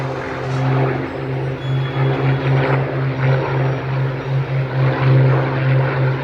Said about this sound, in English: So you see the Spitfire with the clipped wings. Makes it more performance in dogfighting.